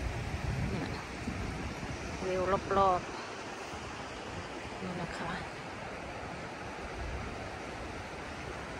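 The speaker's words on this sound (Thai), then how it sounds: "อันนี้ก็จะเป็นน้ำที่มันไหลมาอีกฝั่งนึงนะคะ" A low stream flows outdoors in Branzi, Italy, with little water in a dry season. It makes a steady, soft rushing wash that continues throughout while someone talks briefly.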